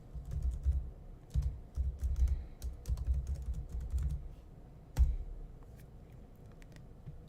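Keystrokes on a computer keyboard as a command is typed into a Linux terminal, irregular bursts of close clicks and taps with a firmer final press near the end, no talking.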